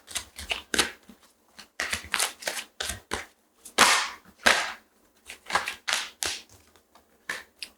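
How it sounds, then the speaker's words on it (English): A deck of tarot cards is shuffled and cut in quick, crisp riffling bursts, close and fairly loud, repeated in uneven clusters with short pauses before a card is drawn. "Let's pull one more for Taurus about the Strength card."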